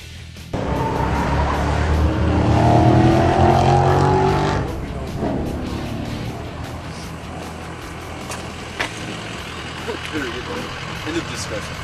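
An Anvil Mustang race car running out on a track during a shakedown, a loud engine roar that rises and then settles into a steadier drone, with a few sharp knocks and voices talking underneath.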